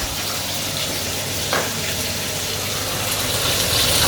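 Breakfast frying in a scorched, well-used pan in a small Dubai apartment kitchen, a steady close sizzle throughout with one brief louder crackle partway through.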